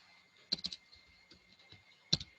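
Typing on a computer keyboard while coding HTML: a handful of soft, clicky keystrokes in small clusters with pauses between, quiet and close over a faint steady hum.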